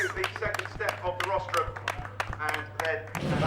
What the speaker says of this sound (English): the applause from the Radical Clubman's Cup community